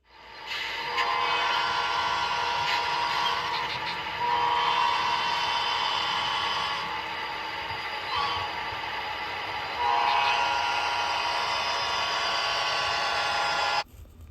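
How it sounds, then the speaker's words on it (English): A nearby train barrels past, its horn blowing in long, loud, sustained blasts over the rumble of rail cars for about thirteen seconds before cutting off. "there's a train barreling down on us. So after the horn's done blowing"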